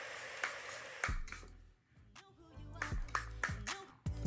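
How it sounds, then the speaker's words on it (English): Makeup setting spray, an Airbrush Flawless Setting Spray, misted in several short bursts with quiet gaps between, close and soft. "we're going to use this Airbrush Flawless Setting Spray."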